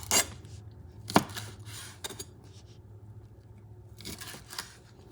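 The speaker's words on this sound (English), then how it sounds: "cutting it in half and then cutting it like this" A knife chops through food on a cutting board during home cooking for Louisiana-style beans and rice, giving a few sharp, separate cuts at irregular intervals.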